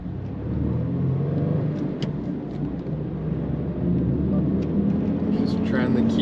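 A Subaru Impreza WRX STI engine hums at low revs while the car is driven, a steady road rumble with occasional clicks, and a person talks over it in the cabin.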